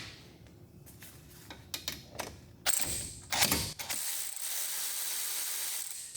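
A hand ratchet clicks as it backs out a brake caliper slide bolt on a 2006–2016 Chevrolet Impala, starting with sparse close clicks, then a few louder metallic clunks, then a steady faster ratcheting whir to the end.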